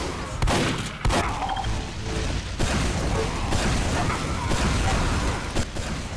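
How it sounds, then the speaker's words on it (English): Carbine gunfire volleys in a first-person shooter game crack out as sharp bursts of shots, some isolated and some clustered, over a dense, noisy backdrop of game ambience. "I hear an early volley of clear carbine fire"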